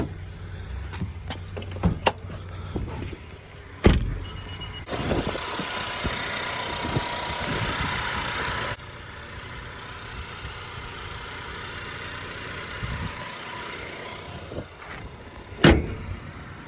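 A 2014 Honda Accord EX-L coupe with the 2.4-litre four-cylinder engine idles at a low, steady hum, joined by clicks and handling noises and a brief louder stretch partway through.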